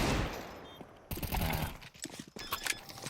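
Pistol gunfire from a Counter-Strike match at a professional tournament, a rapid burst of close, loud shots over game ambience, fading into scattered footsteps and clatter.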